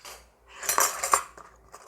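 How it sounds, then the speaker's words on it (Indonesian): A couple of metal spoons are handled in a kitchen, giving a short burst of light clinks and scrapes, fairly close and alone. "Here I have a couple of spoons."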